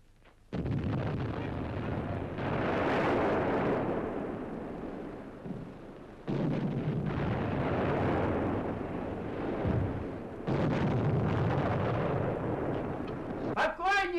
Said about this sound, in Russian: Это взрывают артиллерийский склад.